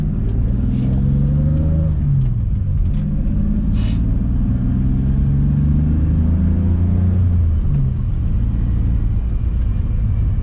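A BMW E30 engine rumbles at low idle, warm, bogging and hunting for idle, its pitch wavering and dipping unevenly as if struggling to hold steady, with no talking.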